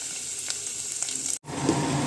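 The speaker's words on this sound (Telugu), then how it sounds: "హీట్ అయింది కదా ఇప్పుడు కొంచెంగా మెంతులు వేసుకుందాం ఎండుమిర్చి" Fenugreek seeds and dried red chilies sizzle loudly in hot oil in a pan, a steady crackling frying sound broken by a brief gap before it surges again.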